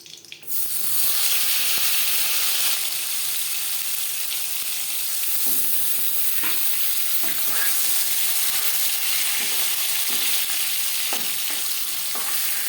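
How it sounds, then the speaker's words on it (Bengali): Pieces of Bhola fish frying in oil in a pan give a loud, steady sizzle with soft crackling and faint utensil taps, no voices. "পরের মাছ একইভাবে ভেজে নেব।"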